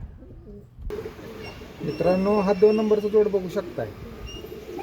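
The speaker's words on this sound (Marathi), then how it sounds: "एकदम टॉप क्वालिटीचे कबूतर आहेत." Domestic pigeons, a fancy breeding pair shown for sale, coo in a soft rolling burble near the middle while someone talks over them close by.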